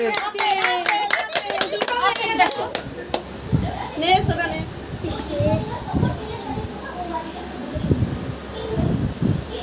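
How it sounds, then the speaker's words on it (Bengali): A group of people, children among them, clap hands in a quick burst of rapid claps at first, then scattered claps continue under lively excited talking and children's voices. "হাততালি দাও সবাই, হাততালি দেয়।"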